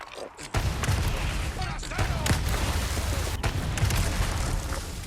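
Infinite Rocket Launcher blasts in Resident Evil 4 Remake: a sudden heavy boom opens a dense, continuous roar of explosions and rumbling, punctuated by sharper cracks, loud and without speech.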